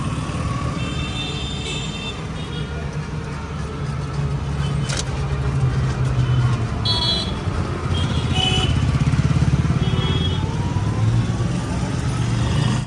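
A battery-powered cart rolls along at Jabalpur railway station with a steady, fairly loud rumble and whir of motion. Faint clatters and passing noises sit over it throughout.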